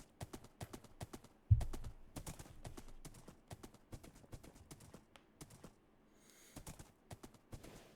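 Horse hooves clip-clop in the video game Minecraft, a quiet run of quick, crisp taps in an uneven trotting rhythm with brief pauses.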